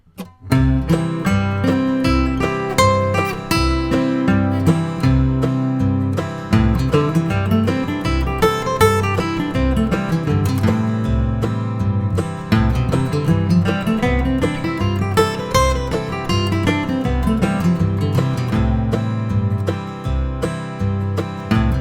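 A guitar runs through fast bluegrass-style arpeggios and scale patterns in the G shape of the CAGED system over a steady strummed backing track, rising and falling in pitch; the playing continues without a break.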